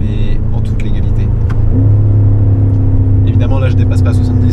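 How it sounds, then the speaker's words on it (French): A BMW M sports car drives at a track day, its engine a loud, close, deep drone that rises in pitch as it accelerates, with someone talking over it. "c'est juste que la voiture fait du bruit."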